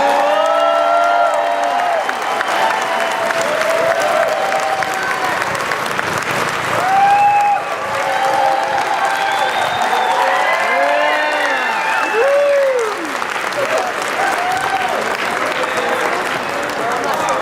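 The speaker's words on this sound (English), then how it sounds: "let's give them a huge round of applause, everybody" Loud applause and cheering from a comic convention crowd in Phoenix greeting guests onto stage, with whoops and shouts throughout and voices talking over the sustained clapping.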